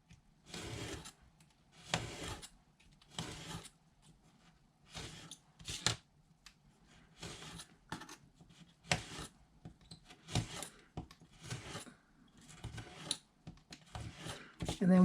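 A blade cuts through a stack of sticky pad paper sheets made from a greeting card, giving repeated short rasping strokes in an irregular rhythm, close and quiet.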